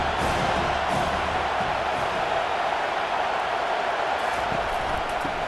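Steady roar of a stadium crowd cheering in a college football game, a dense, sustained wash of many voices at even loudness throughout.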